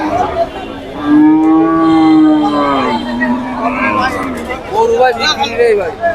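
Cattle at a livestock market in Monirampur, Jashore, some of them thin and bony, let out a long, loud, close moo followed by shorter lowing calls, with market chatter and voices around them.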